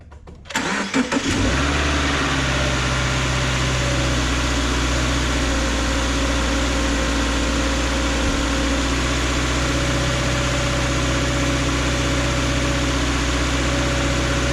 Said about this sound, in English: After you start the car